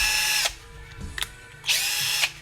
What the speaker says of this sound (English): So I bought my daughter a drill to get her into